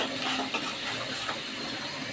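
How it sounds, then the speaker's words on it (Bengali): Onions frying in a pan for a home-cooked Bangladeshi lunch, giving a steady, soft sizzling hiss that runs evenly throughout with faint crackles and no voices. "পেঁয়াজটা ভাজা হয়ে যাচ্ছে"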